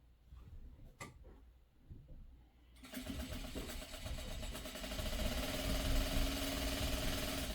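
A sewing machine stitches pre-cut quilt fabric pieces for a mini tumbler flower pot quilt. A few faint ticks give way to a steady, close mechanical whir that grows louder and runs on to the end.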